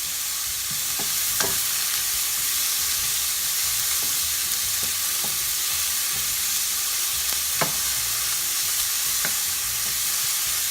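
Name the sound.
stir-frying vegetables with ginger and garlic in hot pan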